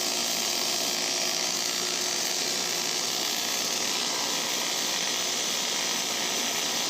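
A MIG welder runs continuously over a tack weld, giving a steady, even crackling hiss that stays at one loud level from start to finish.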